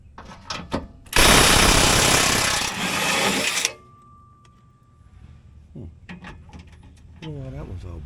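A wrench loosens 18mm skid plate bolts during a transfer case fluid change, giving one loud, harsh mechanical burst lasting about two and a half seconds. Before and after it come quieter clicks, handling noises and a voice.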